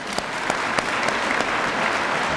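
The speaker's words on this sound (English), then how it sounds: "Give them a round of applause." A crowd claps steadily throughout at a fire station grand opening, dense broadband applause with a few sharper individual claps standing out, fairly close and loud.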